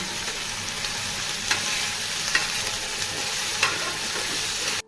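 Prawns shallow-frying in a pan in batches for chili prawn, a loud, close, steady sizzle and hiss with a few sharp spits and crackles, no voices.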